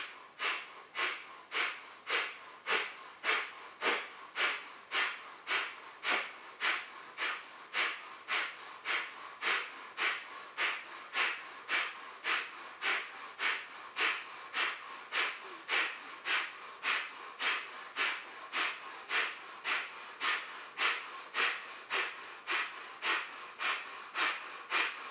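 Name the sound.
Kapalabhati breath of fire yoga breathing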